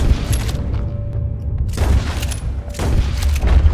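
Gunfire in the Western video game Red Dead Redemption 2: heavy, booming shots and volleys in a Main Street shootout, loud and close, arriving in dense bursts with low rumbling tails over steady background noise.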